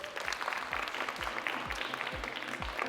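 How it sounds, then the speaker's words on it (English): Applause from an audience at a primary school competition at King Edward's, Birmingham, honouring the winning pupils; a steady, moderately distant wash of clapping with some low thumps underneath. "Can we give them one more clap, please?"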